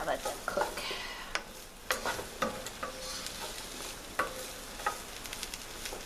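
Chicken fajitas fry in a pan with a moderate steady sizzle, punctuated by several distinct scrapes and taps of a utensil stirring the meat.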